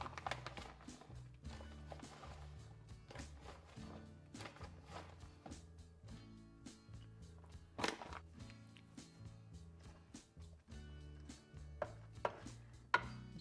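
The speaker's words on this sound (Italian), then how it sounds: "Adesso lo andremo a tagliare e ricaveremo i nostri cubotti di pane." Day-old bread being cut into cubes on a board for cheese fondue, a steady series of close knife chops with irregular rhythm and a few sharper thuds, soft music playing underneath.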